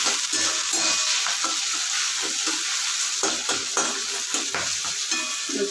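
Garlic rice fries in a pan with a pinch of salt while a spoon stirs it, producing a continuous crackling sizzle broken by repeated scraping strokes, close and clear.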